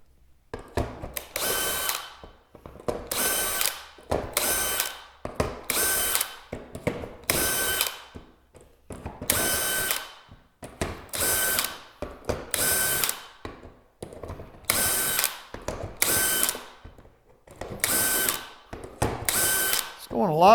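A cordless power drill fitted with a fresh battery runs in about a dozen short, loud bursts, each whirring burst separated by brief pauses in a steady stop-start rhythm, close to the microphone.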